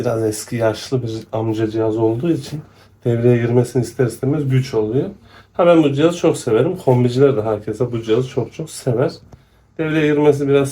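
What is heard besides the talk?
No everyday noise stands out behind the speech.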